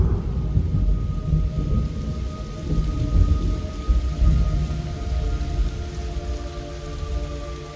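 Steady heavy rain with low rolling thunder rumbling throughout in Metal Gear Solid Delta: Snake Eater, dense and close, no voices.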